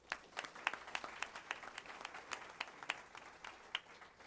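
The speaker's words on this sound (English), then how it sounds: "Let's give another big round of applause," A small audience at a school district board meeting claps, sparse distinct handclaps at moderate distance, fairly quiet and irregular over a few seconds.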